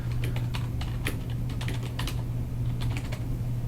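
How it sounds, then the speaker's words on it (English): Rapid, irregular clicks of a computer keyboard being typed on at close range, with no talking, over a steady low electrical hum. "now I can start typing"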